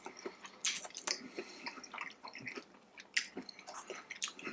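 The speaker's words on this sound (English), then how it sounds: "The panko breadcrumb adds a bit more of a crunch than the regular breadcrumb we used" Crunchy panko-breaded fried mozzarella cheese being bitten and chewed up close, with crisp, irregular crackling crunches and soft, wet chewing in between, and no talking.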